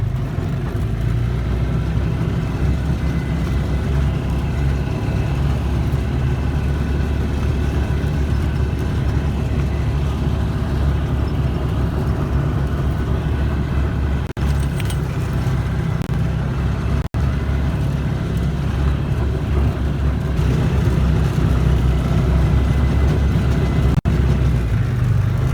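Polaris Ranger UTV driving in four-wheel drive, its engine droning low and steady throughout, heard from the cab with constant rumble and occasional small clunks.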